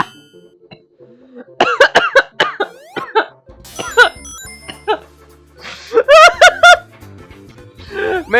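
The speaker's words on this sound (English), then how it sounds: "that made me laugh so hard I coughed" A person coughs repeatedly after laughing hard, bursts of laughter and chuckles mixed with sharp coughs and throat clearing in loud uneven clusters, close to the microphone.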